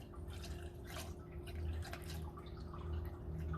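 Motor oil glugs and gurgles as it pours into the fill hole of a 2015 Dodge Caravan engine during an oil change, a faint irregular bubbling trickle heard close up with no talk.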